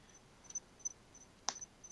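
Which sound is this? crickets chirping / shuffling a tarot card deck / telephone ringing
crickets chirping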